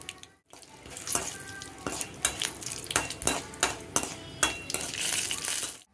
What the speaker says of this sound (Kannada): ಕರಿಬೇವಿನ ಸೊಪ್ಪು, 1 ಮೆಣಸು 3 ಒಗ್ಗರಣೆಗೆ ಹಾಕ್ತೀನಿ.